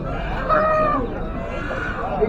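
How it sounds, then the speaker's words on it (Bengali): Chickens in a pen at Nilganj pet market cluck and squawk, with a crowing-like call, close by under people talking. "হাঁসের পর কিন্তু আরেক ঘরে মুরগি পালিয়ে যাচ্ছে।"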